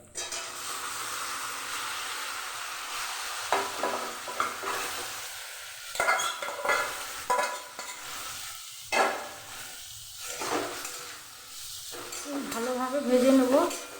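Boiled snake gourd is stir-fried with egg in a hot pan, giving a steady sizzle broken by repeated stirring and scraping bursts, close and moderately loud.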